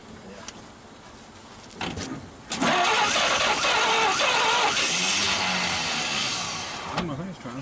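A 1939 Chevrolet Master engine, fed by a freshly hooked-up coil, cranks briefly, then catches and roars into a loud, sustained rough run after sitting 48 years, easing slightly near the end.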